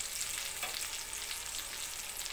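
Pork frying in hot oil in a home kitchen pan, a loud, close, continuous hiss and crackle of sizzling fat that holds steady throughout with no talk.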